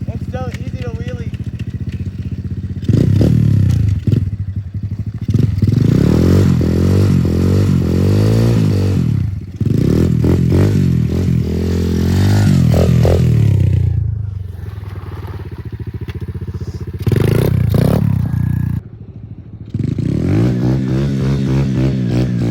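A dirt bike engine revs hard and climbs through gears during a wheelie, loud and close with wind buffeting, cutting out briefly between pulls before surging again.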